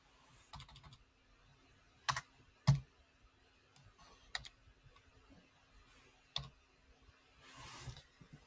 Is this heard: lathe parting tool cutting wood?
no